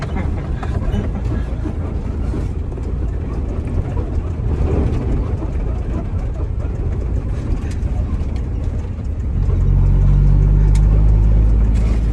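A car drives along with a continuous low road and engine rumble that swells louder near the end, heard from inside the cabin.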